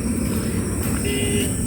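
A Renault Triber locks with a short horn chirp over steady road and traffic noise close by, a single brief toot set against the ambient rumble.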